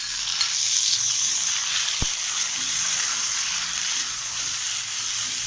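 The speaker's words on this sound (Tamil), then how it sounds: "இப்போ தக்காளி ஆட் பண்ணிக்கலாம்" Onions and tomatoes sauté in a pan for mushroom masala dosa filling, producing a steady, close hiss of sizzling with a couple of sharp knocks against the pan.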